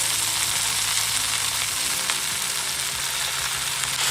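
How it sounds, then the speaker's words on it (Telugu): Gongura leaves fry in a little oil in a pan for a village-style chutney, a steady close sizzle that holds evenly throughout with no voices. "ఫ్రై చేసుకోవాలి ఈ గోంగూర అనేది సాఫ్ట్గా అయ్యేంత వరకు ఫ్రై చేసుకోవాలి"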